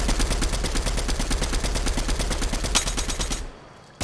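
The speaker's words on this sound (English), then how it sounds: "Shooting at me now." Rapid automatic gunfire rattles in a squad-based online shooter game, a dense run of loud, close shots firing in a fast steady rhythm for about three and a half seconds before cutting out.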